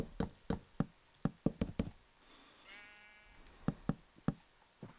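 A Minecraft sheep lets out a single wavering bleat in the middle, set between sharp blocky knocks and thuds that come in quick clusters before and after it.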